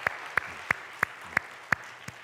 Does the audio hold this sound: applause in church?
yes